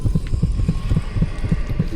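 Steady heartbeat of the Heart item in the Dishonored video game, a low throbbing double pulse repeating about every quarter second under a faint hum, with no talking.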